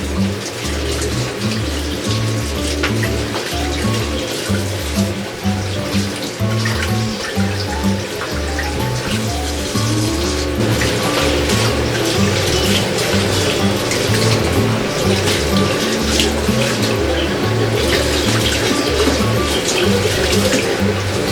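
Water being poured out of a pot while a shabu-shabu hot pot is prepared, a close, loud, continuous splashing flow that holds steady for the whole stretch with no voices.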